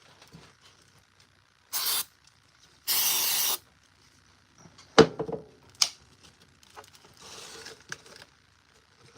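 CA glue activator sprayed onto armor pieces in two short hissing bursts from an aerosol can, followed by faint clicks and handling noises in a quiet room.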